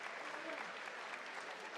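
An audience at a combat sports event claps steadily after a fight ends by TKO, a dense, even wash of applause heard from a distance, fairly faint.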